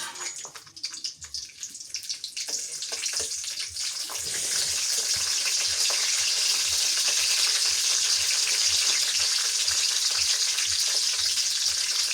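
A steady bubbling, sizzling hiss of beef curry with bottle gourd leaves cooking in a pot, building up over the first few seconds and then continuing loud and even.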